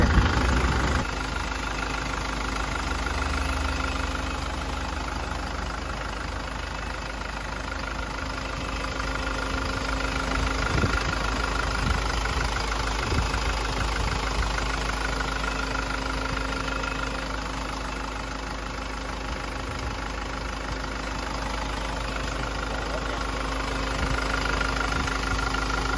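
A 2021 Isuzu QKR230 2.4-tonne light truck idles close by with a steady, even diesel hum and faint knocking, heard alone for the whole stretch.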